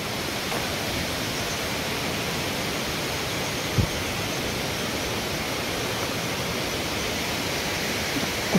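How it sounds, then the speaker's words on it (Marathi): A hidden waterfall near Khopoli gives a steady, dense rushing roar that fills the scene evenly throughout, with one brief knock partway through. "धबधबा तर दिसायला लागलाय, ही धबधबा."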